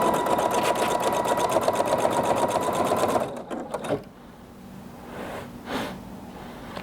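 A Sapphire 85 embroidery machine stitches an applique placement line in a fast, even, close-up chatter for about three seconds, then stops, leaving faint handling noises.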